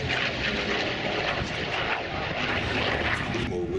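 A Hawker Sea Fury propeller fighter flying at an air show, its engine a loud, continuous broad roar with a slightly shifting tone as it passes.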